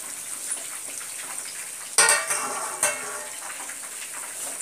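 Water for chicken biryani bubbles at a rolling boil in a cooking pot, a close, steady hiss and fizz broken by two sharp clattering bursts, likely the lid or a utensil knocking against the pot, with no talking.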